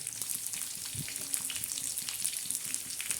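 Onion fries in hot oil as a tadka tempering for a chickpea lentil chutney, with a continuous bright crackling sizzle and a few soft stirring knocks, close and steady.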